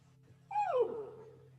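A dog gives a single short whining bark or yelp, rising then sliding down over about a second, heard close and alone over a low steady hum.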